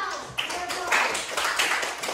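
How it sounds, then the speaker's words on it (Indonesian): A classroom of students applauding together, a loose patter of many hands clapping at close range, steady and brief. "Tepuk tangan."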